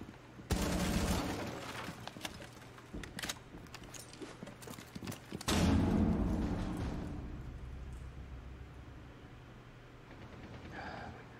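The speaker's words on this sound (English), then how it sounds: "They just shot him up." A video game shootout brings bursts of gunfire: scattered sharp shots, then a heavy louder volley midway that fades into rumbling ambience. The sound is moderately distant and quiet.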